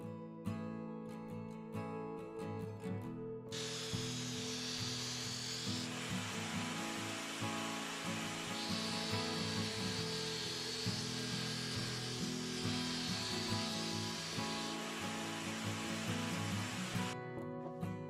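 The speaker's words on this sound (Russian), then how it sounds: "на основе крепления для дрели я сделал станционный шлифовальный станок" A drill-powered homemade stationary sanding machine grinds against wood, a steady whirring rasp with shifting pitch as the piece is pressed and moved, running continuously from about three seconds to near the end after some background music.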